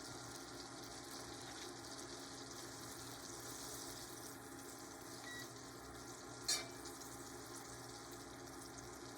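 Butter melts in a pan, making a faint, even sizzle with a low background hum and a single brief clink partway through, no talking.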